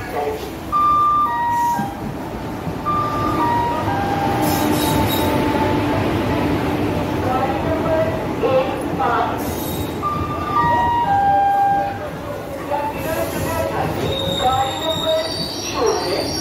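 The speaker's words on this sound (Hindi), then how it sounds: "हमारी ट्रेन आ चुकी है, जैसे कि आप देख रहे हो सामने से आ रही है हमारी ट्रेन।" The Chhapra Express pulls into a station on the Ballia to Reoti route in India, its wheels squealing in loud high-pitched screeches over the rumble of rolling cars while a voice talks nearby.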